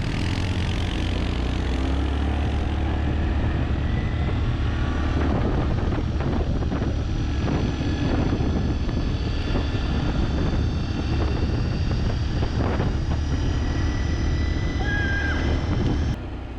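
An older four-wheeler ATV engine drones steadily while riding, loud and close, with heavy wind buffeting the microphone throughout.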